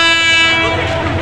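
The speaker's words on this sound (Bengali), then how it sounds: "ওই গাড়িটা যখন আসবে তখন এই ট্রেনটা ছাড়বে। ওই যে একটা গাড়ি আসতেছে," A Bangladeshi local train at a crossing lets out a short, loud, close horn blast over a low rumbling roll of the wagons.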